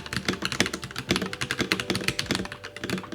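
Rapid typing on a Royal Kludge RK84 Macchiato mechanical keyboard, a dense close stream of crisp keystroke clicks with no talking.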